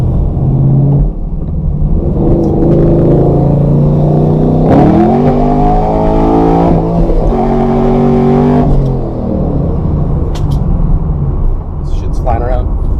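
A Chevrolet Camaro Z28 accelerates hard from inside the car, its engine revving loudly and rising in pitch through the gears, with someone talking over the roar.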